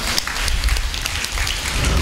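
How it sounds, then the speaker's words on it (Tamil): An audience at a church service clapping hands, a dense, loud, steady round of applause heard close and alone. "கைத்தட்டுங்க."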